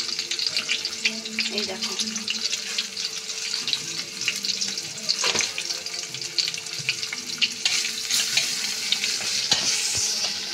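Whole cumin seeds sizzle steadily in hot oil for a vegetable dal, a loud, continuous crackling hiss with stirring scrapes, while a voice briefly speaks over it.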